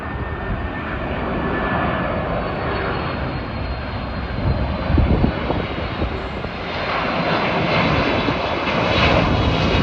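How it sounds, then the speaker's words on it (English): A Delta Airlines Boeing 767 extended range jet comes in to land from Los Angeles, its engines a steady broadband roar that swells slightly as it draws nearer, with no voices. "we got got a Delta Airlines Heavy, a 767 extended range coming in from Los Angeles International Airport"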